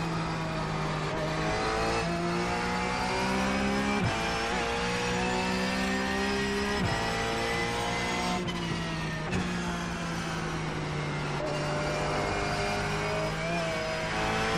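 A race car engine in iRacing revs hard, a loud, continuous buzzing drone that repeatedly drops and climbs again through gear shifts every few seconds.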